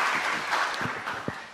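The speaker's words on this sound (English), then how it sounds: "Big round of applause for her, please." An audience at a renewable energy conference applauds in a brief, steady burst of clapping filling the room, a few individual claps standing out near the end.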